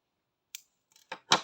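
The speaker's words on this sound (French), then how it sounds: "une maille en l'air pour couper le fil" Scissors snip crochet yarn in a quiet room: a light click, then two quick crisp cutting snaps close to the microphone, with silence between.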